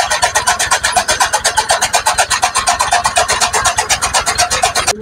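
A tractor engine runs steadily while cutting fodder in a village farmyard, giving off a loud, close, rhythmic pulsing chug with regular beats throughout.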